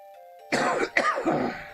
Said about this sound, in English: Pardon my cough there.